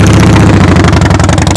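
A motorcycle engine running at a steady, raised throttle during slow-speed riding practice in neutral, a loud continuous low throb with regular pulsing, close by and filling the whole moment.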